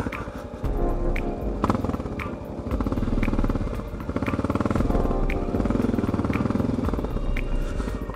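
Honda XR650L dual-sport motorcycle engine thumping steadily while riding, a continuous rough single-cylinder drone close to the microphone with wind buffeting and small rattles throughout, no voices.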